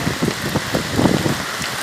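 Heavy monsoon downpour in Vasant Nagri, Vasai, near the sector 1 road to the station, a dense steady hiss of rain on surfaces with irregular spatters, loud and continuous throughout with no talk over it.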